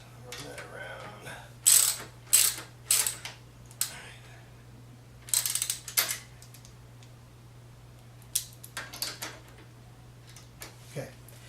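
Ratchet clicking as a bolt is tightened on a Honda VT600 motorcycle: several quick bursts of sharp, close ratcheting clicks spread through the clip, with pauses and faint talk between them.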